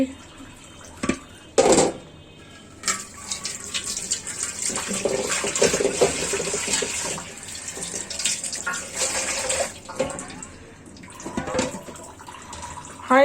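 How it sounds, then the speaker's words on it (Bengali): Beef from an Eid sacrifice being rinsed in water, heard as steady splashing and running water with clattering handling, with a person's voice partly over it. "পানিটা ধুয়ে নিয়েছি এই পানিটা আমি যে কোনো মাংস রান্না ব্যবহার করতে পারবো"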